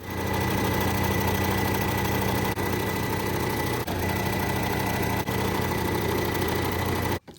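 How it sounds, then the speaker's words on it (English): A sewing machine stitching an X across fabric gives a steady, close mechanical whir that breaks off briefly three times as the work is turned, then stops abruptly at the end. "I'll spin it around and sew the X the opposite way"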